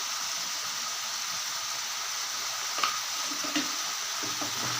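Rabbit fry is stirred in a hot pan with pepper powder, giving a steady loud sizzle throughout, broken by a couple of soft scrapes of the spoon against the pan near the end.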